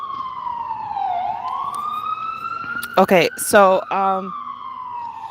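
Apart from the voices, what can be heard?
ambulance siren passing by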